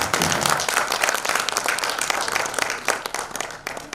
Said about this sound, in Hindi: एक बार जोरदार तालियां कामिनी